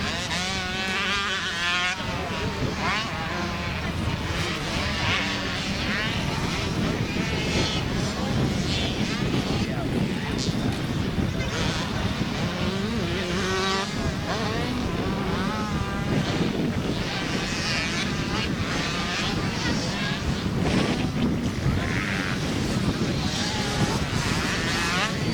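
Youth 65cc motocross bikes, ridden by 6-to-8-year-olds in a beginner class at a Gold Cup race in Perris, California, drone and rev continuously on the track, a dense buzzing engine roar under steady announcer commentary.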